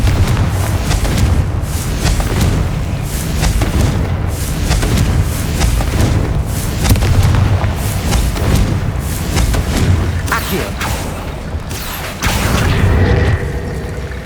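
Confringo fire spell blasts in Hogwarts Legacy, a run of loud booming explosions and thuds rolling one into another, dense and continuous over a rumbling game soundscape.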